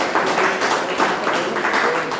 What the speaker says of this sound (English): A big round of applause for all the people, especially the guests who come and take the speeches